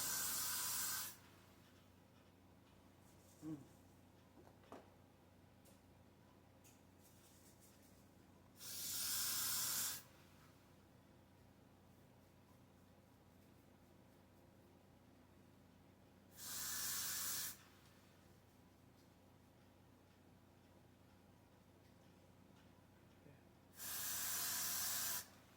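A spray bottle mists a braided wig in three short, sharp hissing bursts spaced several seconds apart, with quiet room sound in between.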